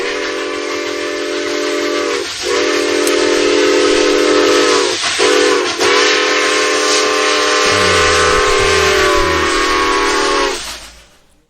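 A loud, sustained steam train whistle blows in long steady blasts with brief breaks, then fades out at the end.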